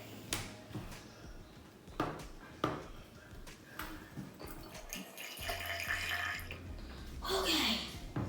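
Hot water splashes and trickles into a glass bottle for an egg-and-bottle air pressure experiment, a wet pouring wash rising near the end among clinks and light handling knocks, with a voice talking at moments.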